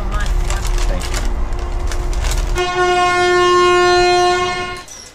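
Indian passenger train between Delhi and Agra, with a long steady horn blast from about the midpoint that swells loud and then fades, over rumbling carriage noise and some background voices.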